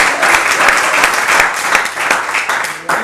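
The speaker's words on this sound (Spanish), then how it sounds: "Denle un fuerte aplauso al Señor" A church congregation applauds loudly and continuously, a close, busy clatter of many hands lasting the full three seconds with no talk over it.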